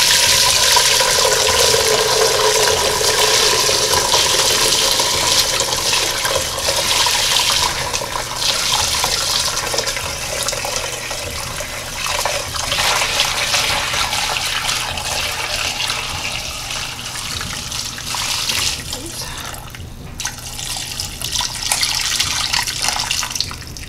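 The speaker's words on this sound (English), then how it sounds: "we're just gonna pour the stock into the strainer" Homemade turkey stock poured through a cheesecloth-lined strainer makes a steady, loud splashing rush of liquid that gradually softens and thins toward the end.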